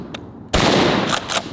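A Benelli pump-action shotgun with a new barrel fires one loud, sharp blast at close range, followed by a brief rolling echo, with a faint click just before the shot.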